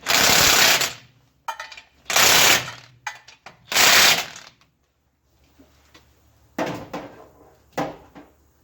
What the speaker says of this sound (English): I have a 100 foot-pound torque stick.